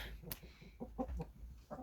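Soft clucking from chickens settling to roost in the evening dark, a few short low calls in a quiet setting.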